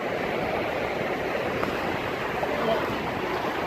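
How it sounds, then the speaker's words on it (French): Ocean waves wash continuously onto a beach, a steady broadband rush with wind buffeting the microphone and voices talking throughout. "il y a un nombre de vagues"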